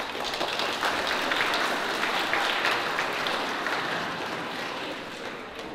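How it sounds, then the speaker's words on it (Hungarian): An audience at a school carnival claps steadily, welcoming a juggler to the stage. The applause is dense and even, moderately loud, and fades slightly toward the end. "Köszöntsük nagy tapssal!"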